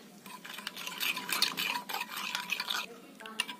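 A spoon stirs a paste of cumin powder, coriander powder, salt and a little water, giving brisk, close scraping and clinking strokes in an uneven rhythm that fade briefly near the end.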